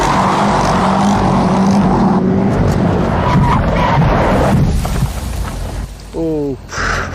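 A car engine revs hard and loud, a continuous roaring drone with rising and falling pitch that eases off near the end before a brief tonal chirp.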